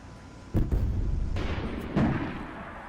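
A T-55 tank cannon in a video game fires with a heavy boom, followed by a second deep impact as the shell strikes the target, both loud over a steady low rumble.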